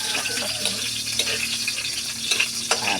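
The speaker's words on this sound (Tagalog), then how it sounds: "Igigisa muna ang bawang." Garlic sautés in a hot pan for sarsyado, a steady loud sizzle and crackle with occasional light scrapes and clinks of stirring.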